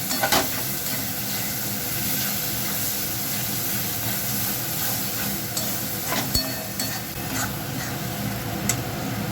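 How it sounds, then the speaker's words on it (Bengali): Soaked mung dal with spices being stirred in a hot pan, a steady sizzle and hiss with scraping stir strokes throughout, close and fairly loud. "এটা দিয়ে ভালো করে নাড়াতে হবে"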